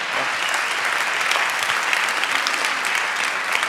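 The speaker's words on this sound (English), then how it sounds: "Give him a warm applause" Steady applause from an audience at a graduation ceremony, greeting the moderator as he takes the stage; dense, even clapping fills the whole stretch at close range with no voices over it.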